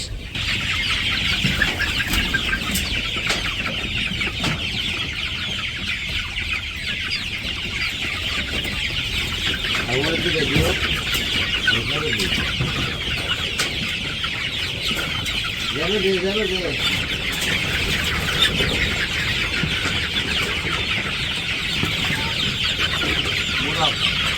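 Village chickens cluck in short bursts under a steady high hiss of insects or ambient noise, with faint voices nearby throughout.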